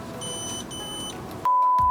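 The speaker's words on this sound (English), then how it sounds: "it's going to start beeping at me now" A Razor E300 electric scooter fitted with Xiaomi M365 parts gives a steady electronic beep tone with a short bleep near the end on power-up, over a constant low hum, loud and close.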